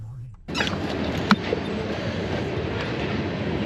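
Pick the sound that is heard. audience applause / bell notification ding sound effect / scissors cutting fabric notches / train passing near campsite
train passing near campsite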